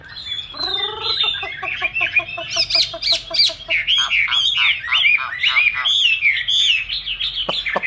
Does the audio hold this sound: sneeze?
no